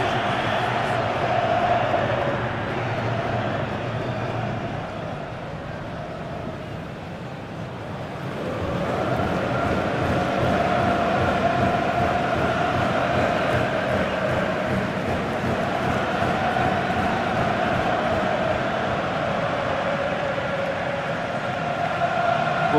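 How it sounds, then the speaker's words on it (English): Stadium crowd at a Portugal versus Argentina World Cup final in the FC26 football video game, a continuous roaring crowd noise that dips briefly then swells back to a loud steady rumble, no clear voices. "just listen to this crowd. They want a bit more"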